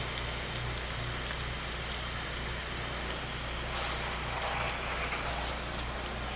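A pressure washer spraying water to rinse a house's windows, a steady, broadband hissing spray that runs continuously from start to finish at a fairly even level, with a slight rise near the end.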